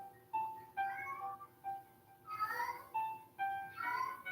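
A cat meows over and over, about six clear, fairly close calls in an uneven rhythm, with short quiet gaps between them.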